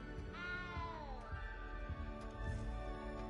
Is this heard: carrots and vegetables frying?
no